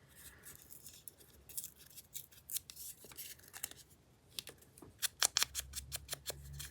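Scissors snip through a paper page tab in a run of sharp, close cuts that quicken into a rapid burst of crisp snips near the end.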